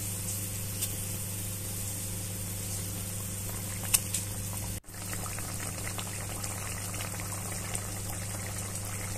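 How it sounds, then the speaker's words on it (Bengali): Chital fish curry broth simmers in a pan, giving a steady, even bubbling hiss throughout, with a single brief knock partway through and no talking. "এখন আমি এর মধ্যে মাছগুলিকে একে একে সব দিয়ে দেব, দিয়ে আবারও একটু ঝোলটা ফুটতে দেব"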